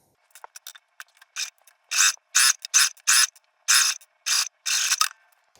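A sewing machine bastes a quarter-inch seam on a sling bag, starting with a few short taps and moving into a string of rapid mechanical stitching bursts separated by brief pauses, close and clear.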